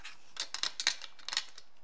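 Scissors snipping through fabric for a mini tote bag, a quick run of close, crisp cuts in uneven succession, heard alone without speech.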